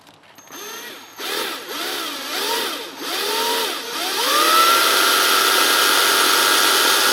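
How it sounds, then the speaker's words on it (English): A power drill bores down into a cap at a center-punched divot, cutting in several short rising and falling bursts before settling into a steady high whine, close and fairly loud. "I've just center punched a divot right there, and I'm going to drill down"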